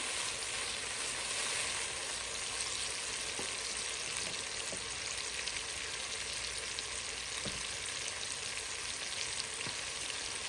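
Garlic paste frying in a pan for a vegetable pasta dish gives a steady, fairly loud sizzling hiss that runs the whole time, with a few faint clicks of stirring and no talk.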